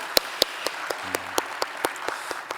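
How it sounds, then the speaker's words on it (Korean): A church congregation at a Korean worship service clapping in a thin, steady rhythm, with sharp individual claps spaced roughly a quarter second apart and no talking. "하나님께 다시 한번 우리 큰 박수로 영광 돌리겠습니다"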